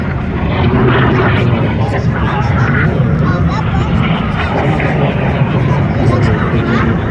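A jet aircraft in the Jet class at the Reno Air Races 2023 makes a loud, steady roar that fills the whole span, while an announcer talks over it.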